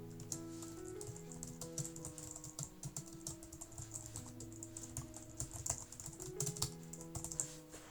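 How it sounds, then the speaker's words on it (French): Typing on a Logitech MX Keys Plus keyboard with short-travel low-profile keys, a steady run of soft, quick keystrokes close by with a faint hum beneath, no voices. "Il est particulièrement silencieux, la course est courte, vous voyez une pression légère suffit à ce que la touche s'actionne,"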